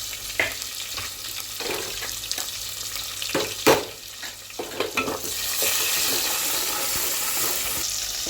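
Onions frying with curry leaves for khichdi in a home kitchen pan, a steady sizzle broken by scraping stirs and clinks of the spoon, the frying hiss growing louder toward the end.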